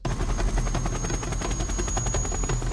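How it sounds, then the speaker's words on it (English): A Black Hawk helicopter flying into Beirut, its rotor thumping in a steady, fast rhythm over a loud, continuous engine roar, close and unbroken throughout. "There was no other way in except a Black Hawk helicopter."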